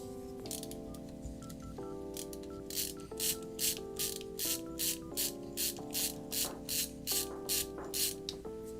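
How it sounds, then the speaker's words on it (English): Tool working the belts on a Voron V2.4 3D printer, giving a rapid series of clicking, ratcheting pulses that grow louder partway through, close-up and alone with no talking. "Okay, let's loosen these belts."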